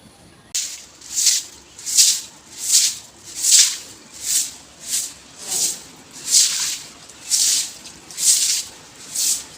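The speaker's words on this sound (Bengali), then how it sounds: "চলো এটা জল দিয়ে ধুয়ে দিলাম পরিষ্কার করে দিলাম বাড়ির সামনেটা" Water splashes and scrubs across the ground in front of a house in rural Bengal, a steady rhythmic swish repeating about once a second, close and fairly loud, with no talking.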